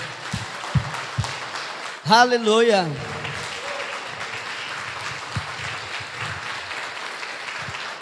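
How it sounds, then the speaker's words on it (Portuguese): A church congregation at a worship service claps steadily for several seconds, and one voice briefly shouts out over the applause. "Vamos aplaudir ao Senhor."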